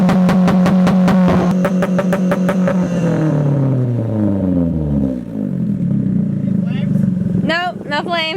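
A Mitsubishi Lancer Evolution X engine, fitted with mufflers and with a faulty turbo that won't spool, revs up hard, then the pitch slides down as it winds off, settling into a rough idle before voices chatter briefly at the end.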